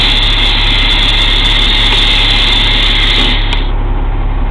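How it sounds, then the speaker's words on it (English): A KME fire truck idles in neutral with its aerial ladder PTO engaged, giving a steady, loud engine drone with a strong low rumble and a bright high whine that holds constant, then drops away near the end. "I'll show you the aerial ladder PTO as soon as I engage it."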